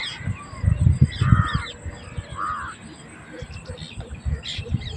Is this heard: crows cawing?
yes